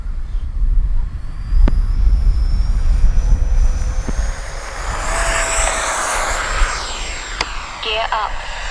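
A Freewing F-16 70mm electric ducted-fan RC jet in arctic camo spools up and takes off on its maiden flight, a loud broadband whoosh rising in pitch over steady outdoor wind and ground noise.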